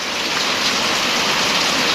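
Steady, loud rain pours down over a Bangladeshi village, a dense unbroken hiss with no voices.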